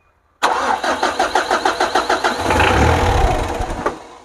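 A Mitsubishi 4D56 diesel engine, misfiring, smoky and hard to start, cranks with about a dozen loud, rhythmic turns before catching and settling into a rough, steady run.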